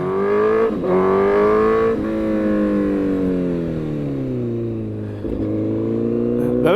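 A custom 2008 Honda CBR1000RR sport bike's engine drones loudly and close while being ridden, its pitch climbing, dropping through gear changes and then sagging slowly as the throttle eases, with a couple of brief dips between.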